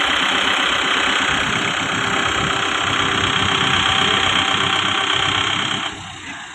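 A steady, loud Kubota MU5502 tractor engine drones continuously with a rough mechanical rumble while turning, easing off slightly near the end.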